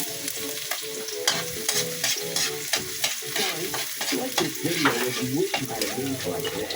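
Garlic frying in a hot pan for Filipino baboy calderita, a loud, close sizzle with repeated sharp clinks and scrapes of a utensil stirring, no voices.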